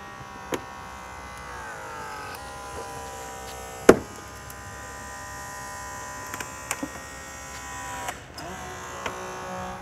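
A Holmatro hydraulic combi rescue tool, its removable tips taken off, cuts through a car dashboard during a rapid dash-lift extrication: a steady droning hum of the power unit runs throughout, broken by sparse sharp cracks and snaps.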